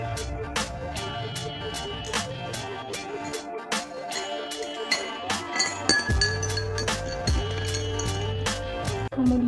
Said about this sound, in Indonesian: masukkan 2 sendok gula ke dalam gelas dengan label air plus